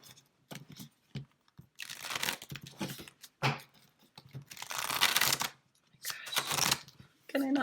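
A deck of cards being shuffled by hand, several bursts of riffling and crisp papery rustling with short pauses between them, close and fairly loud.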